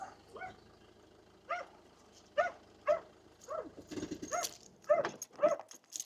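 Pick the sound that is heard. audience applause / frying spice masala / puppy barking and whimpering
puppy barking and whimpering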